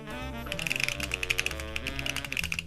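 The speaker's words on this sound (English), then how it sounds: "Here comes your typing test, Nihad." Rapid clicky typing on a computer keyboard, a dense irregular patter of sharp keystrokes close up and continuous, with no voices.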